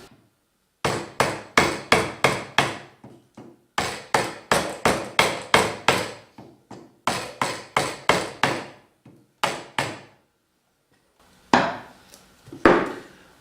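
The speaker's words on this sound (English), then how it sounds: "we're still using the larger of the gouges" A large wood gouge carves the jaw of a wooden rocking horse head, driven by sharp mallet-like knocks that come in quick rhythmic runs of five to eight strikes, separated by short pauses, close and clear with no talk.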